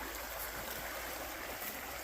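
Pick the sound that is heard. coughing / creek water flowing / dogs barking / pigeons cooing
creek water flowing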